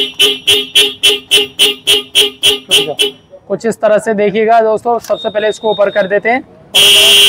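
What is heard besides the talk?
multi-tone vehicle horn sounding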